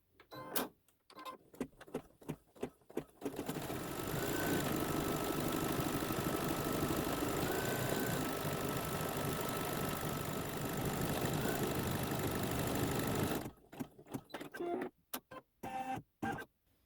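A sewing machine runs satin stitch across the inside of a quilt feather on a Santa's Workshop block, a steady, dense mechanical whir for about ten seconds, bracketed by scattered clicks and short bursts before and after.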